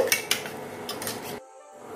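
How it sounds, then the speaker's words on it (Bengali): Batter of green chilli, chopped onion and salt whisked in a bowl: quick metallic clinks and scraping of the utensil against the dish, close and fairly loud, then stopping abruptly into near silence. "ভালো করে ফেটিয়ে নেব।"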